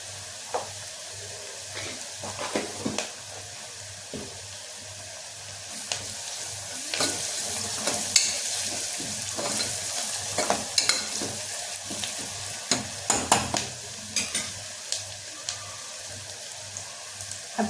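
Spices for masoor khichdi stirred and sautéed in a hot pan with turmeric, red chili, garam masala and coriander powder, a continuous sizzle broken by scraping spoon strokes, close and steady.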